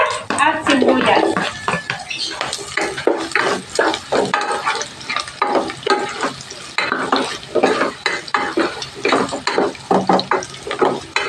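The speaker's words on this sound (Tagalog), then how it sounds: "Igigisa ko. So, lalagay ko na siya ng bawang" Garlic and onion sauté in a pan alongside pork belly, sizzling steadily while a utensil scrapes and stirs in a busy, rhythmic clatter. Someone talks over the cooking at times.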